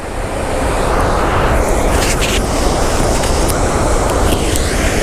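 Chitrakote waterfall in Chhattisgarh, a loud, dense roar of falling water that builds in the first moment and then holds steady and unbroken, with no voices.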